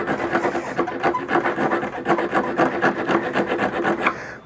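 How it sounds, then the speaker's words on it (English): A WoodRiver riffler rasp files a piece of wood in quick, close back-and-forth strokes, giving a dense, gritty scraping rhythm that carries on without talk. "try another one"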